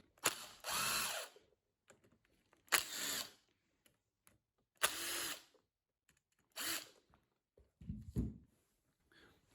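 A power screwdriver works on the casing screws of a Grundfos Watermill shower pressure pump with a seized pump, in four loud separate bursts of roughly a second each, with short gaps between them and a lower, duller burst at the end.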